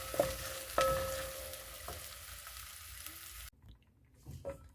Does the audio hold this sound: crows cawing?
no